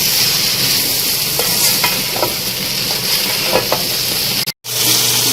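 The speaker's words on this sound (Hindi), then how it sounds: "भिंडियों को यहाँ देखिए मैं बहुत अच्छी तरह से फ्राई कर रही हूँ" Sliced okra (bhindi) sizzles steadily while being fried dhaba style in a pan, with a few clear spatula scrapes and stirs over the constant crackle and a short dropout near the end.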